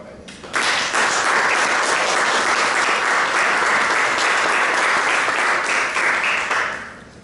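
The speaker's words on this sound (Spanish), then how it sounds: "pedirles un aplauso para que escuchemos a Maru Vanegas. Un aplauso para ella." An audience at a book presentation in a library breaks into full, sustained applause, a dense wash of clapping that swells at once, holds steady for several seconds, then tapers off.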